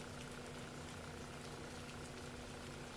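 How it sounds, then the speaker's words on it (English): Rain sounds play quietly in the background, a steady, even hiss of rainfall continuing without change and with no talking over it. "Turn off this rain for a second, it's distracting me."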